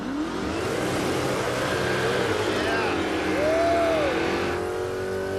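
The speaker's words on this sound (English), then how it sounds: "Okay, that's a burnout right there." Alex Taylor's car doing a long burnout at a Roadkill event, a loud sustained engine roar with rising and falling revs and screeching tires, steady throughout with crowd noise and talk underneath.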